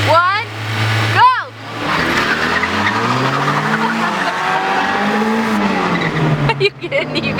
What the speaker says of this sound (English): I was spinning the whole time. I kept pressing the gas.